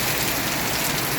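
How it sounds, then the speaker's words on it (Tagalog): Heavy typhoon rain pours down steadily, a dense, continuous roar of water hitting surfaces at close range, with no gaps or voices. "Kita nyo kung gaano kalakas ang ulan."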